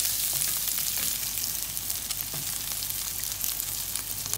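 Ginger, onion and garlic sautéing in rendered pork fat, a dense, even crackling sizzle throughout with faint stirring, no talk.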